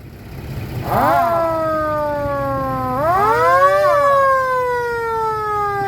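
A vehicle siren wails in long sweeping rises and falls, loud and fairly close, repeating twice over steady background noise with no talking.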